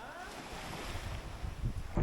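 Ocean waves of the Bay of Fundy at high tide in New Brunswick, Canada, washing over soaked shore rocks, a continuous rushing surf with wind buffeting the microphone and a louder surge at the end.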